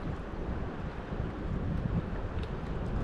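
Steady wind buffeting a microphone during fishing on the water, a continuous low, rumbling rush with no speech.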